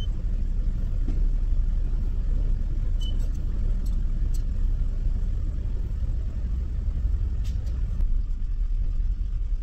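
A car engine with a faulty number 3 ignition coil runs steadily under diagnosis, giving a close, even low rumble with a few faint clicks and no speech.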